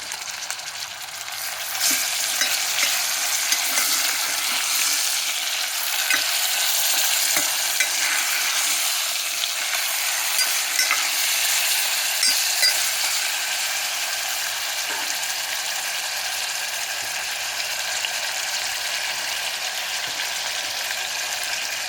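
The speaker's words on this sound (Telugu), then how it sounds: "ఇప్పుడు మాంసాన్ని వేసేస్తున్నాను." Mutton pieces sizzle in a pan of fried ginger-garlic paste for lunchtime mutton aloo kurma, with a continuous crackling hiss and scattered scraping clicks from a spoon stirring throughout.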